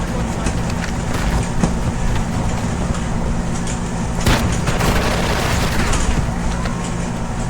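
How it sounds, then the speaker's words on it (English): Shotgun blasts ring out in a video game, with one sharp, booming shot standing out above a constant rumbling game background. "The shotgun's actually really good."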